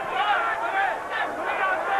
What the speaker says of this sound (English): as you can hear, the crowd are solidly behind him